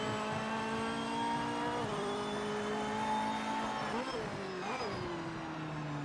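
A race car engine in the racing game Project Motor Racing holds a steady high whining rev with harmonic drone, dipping and rising briefly toward the end, loud and continuous as someone talks over it.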